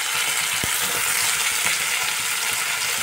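Chopped onion frying in a pan, a steady loud hiss and sizzle with a dense crackle throughout, a single soft knock near the start, and no talking.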